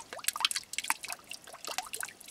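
Water draining from a filter bed on a mining tailings pad, a busy patter of small drips and plops trickling close by, fairly soft and without talk.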